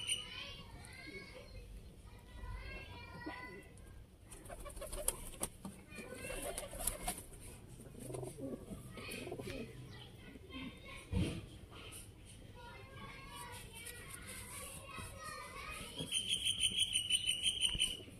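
Teddy pigeons, a Sialkoti breed, coo and call among other birds, with chirps and whistles scattered through the clip, a rising cluster of sharper calls near the end, and people talking intermittently.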